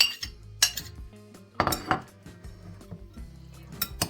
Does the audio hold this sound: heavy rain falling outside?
no